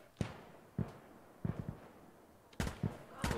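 Grenades go off in the video game Insurgency: Sandstorm as a series of sharp, booming blasts at irregular intervals, about six bursts with some clustered together, moderately loud over a quiet background.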